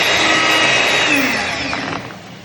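Electric mixer beating a mixture in a bowl, a loud continuous high-pitched motor whine with a steady buzz that eases slightly toward the end, with no talking.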